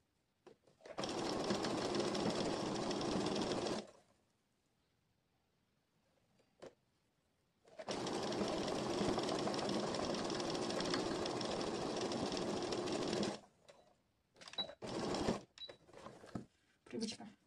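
A sewing machine stitches the shoulder seams of a dress in two sustained whirring runs, about three and five seconds long, then gives a few brief stop-start bursts.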